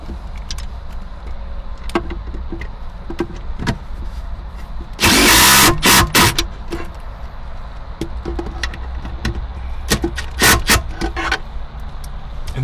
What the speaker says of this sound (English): Take your impact and make sure they're nice and snug.